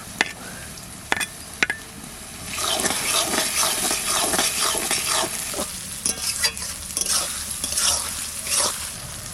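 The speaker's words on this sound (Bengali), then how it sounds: "শুধু নাড়তে হবে শুধু নাড়তে হবে" Tomatoes being stirred into softened ginger and onion in a frying pan, a steady close sizzle with repeated scraping strokes of the spoon, after a few sharp knocks at the start; no talking.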